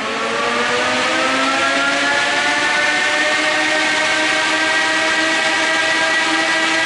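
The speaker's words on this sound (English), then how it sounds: "We can hear our fans are winding up." Cooling fans on a Simplex Powerstar load bank spin up, a loud steady whir with several tonal bands rising in pitch as they accelerate over about seven seconds, no voices.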